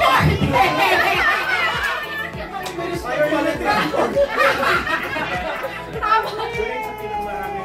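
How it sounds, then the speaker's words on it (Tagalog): A lively crowd at a church fellowship event chatters and calls out together, children's shouts and chuckles rising through a steady, fairly close wash of voices with talk throughout. "oh, the crowd"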